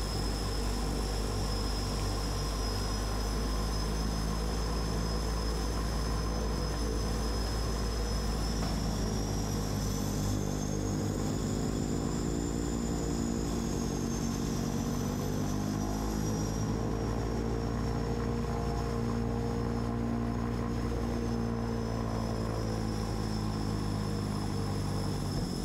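A seaplane taxis on the water off the Maldives before takeoff, its propeller engine a steady loud drone heard from inside the cabin, with a shifting whine riding over the constant rumble throughout.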